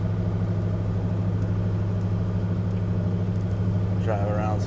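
A 1965 Plymouth Fury with a 383 HiPo V8 and four-speed, heard from inside while driving: a steady low engine drone and road rumble under continuous in-car talk.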